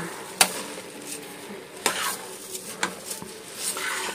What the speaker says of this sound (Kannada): ಇವಾಗ ಪಲಾವ್ ಮಿಕ್ಸ್ ಮಾಡೋ ಸಮಯ.